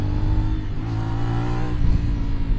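A Kawasaki 450NK motorcycle accelerates on its first ride, a steady, close engine drone with rising harmonic tones and slight surges in revs, heard alone without talk.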